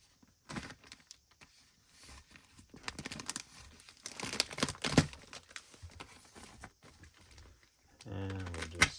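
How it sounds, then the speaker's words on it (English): An X-Acto knife slices through shoe box packaging close up, making quick scratchy cuts and crinkly, tearing rustles in uneven bursts. A voice begins speaking at the very end. "I have to do a little more cutting on the side"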